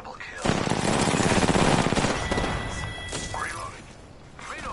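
Gunfire in the video game Apex Legends, a loud, dense burst of rapid shots up close, then fainter game effects and tonal sweeps under brief voice sounds.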